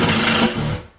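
A power drill driving a tight anchor out of a wall during a pantry remodel, the gun sparking under load: a loud, close, grinding whir for about a second that then drops away.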